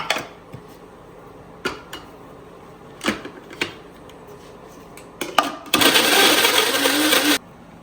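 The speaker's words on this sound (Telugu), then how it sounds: "సో గ్రైండ్ చేస్తున్నాను ఒక టొమాటో" A kitchen blender grinds a large tomato into puree for a spicy mutton biryani paste, running in a loud steady whir for under two seconds near the end after scattered clicks and knocks.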